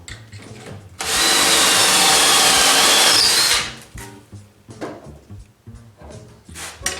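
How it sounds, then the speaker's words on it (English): A power drill whines steadily into wood for about two and a half seconds, loud and close, then stops, followed by light handling clatter. "drill another hole."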